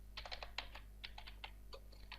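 Quick, light keystrokes on a computer keyboard while an HTML comment is entered, an irregular run of soft close clicks over a low hum.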